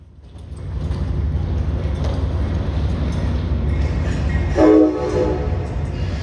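A northbound Amtrak Ethan Allen Express passenger train rumbles past nearby on New York's Hudson Line, loud and steady, with a horn blast sounding briefly near the end over the rolling clatter.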